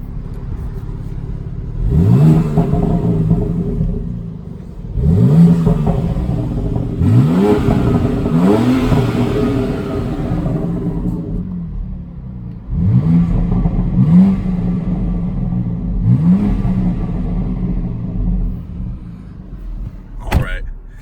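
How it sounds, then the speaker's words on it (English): A 2020 BMW X4 M Competition engine revs repeatedly, each blip climbing sharply then falling back, several in a row with pauses at idle between, close and loud, ending with a brief clunk. "It's a great sounding engine."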